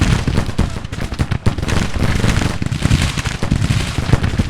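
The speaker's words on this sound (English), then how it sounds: "The Napoleons can shoot, so that's a good thing." Napoleon cannons firing in a Civil War strategy game, a dense, continuous crackle of distant artillery and musketry, loud and steady throughout with sharp individual reports poking out of the din.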